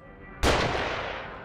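A single sharp, loud gunshot in The Evil Within, with a heavy boom and a long reverberant tail.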